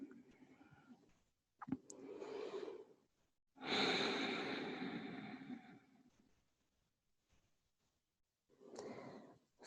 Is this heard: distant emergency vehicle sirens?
no